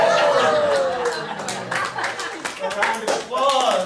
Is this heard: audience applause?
yes